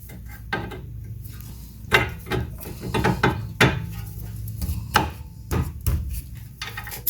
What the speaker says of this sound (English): then I will tighten this nut at the back.